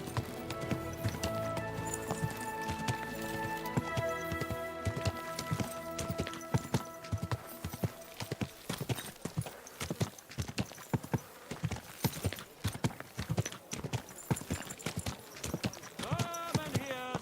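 Horse hooves clip-clopping in the medieval video game Kingdom Come: Deliverance II, a steady rhythmic trot that grows more distinct midway, layered over sustained music with occasional speech.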